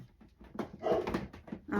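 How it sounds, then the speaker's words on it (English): Indoor dog giving a few short whiny barks and whimpers close by, in uneven bursts with gaps between them. "this dog's getting on my nerves barking"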